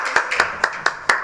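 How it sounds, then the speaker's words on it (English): Five sharp, separate hand claps in a slow, fairly even rhythm, close and clear, from an audience at a talk on brain injury and problem gambling treatment. "Just a transitional clap, which we can do."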